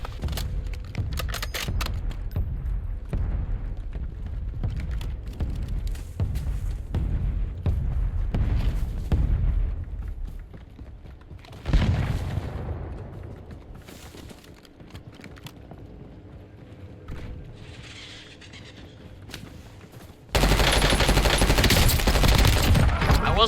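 Rapid automatic gunfire and bursts in the video game Warzone, dense and loud through the first half, thinning into quieter shots and effects before a loud sustained blast of noise at the end.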